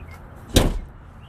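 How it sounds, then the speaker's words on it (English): A truck cab door swings shut once with a single solid thud during a commercial vehicle pre-trip inspection, moderately close against a quiet background with no talking. "now we just close the door"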